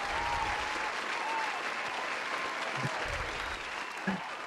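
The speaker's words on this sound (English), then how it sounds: "You got applause here." A small audience claps softly and evenly during a TV interview, the applause staying low and steady with a couple of faint bumps near the end.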